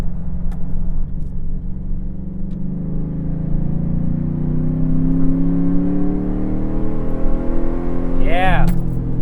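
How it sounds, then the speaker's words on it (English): A Chevrolet TrailBlazer SS with an LS2 engine rumbles as it accelerates, a loud engine drone rising steadily in pitch, while someone talks over it. "you can never get tired of hearing that LS2. Motor sounds fantastic"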